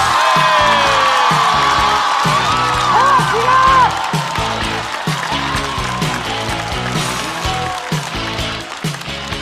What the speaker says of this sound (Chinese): 掌声欢迎小齐。